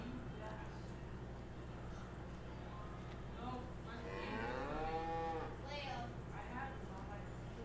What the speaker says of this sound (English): You okay there, cow?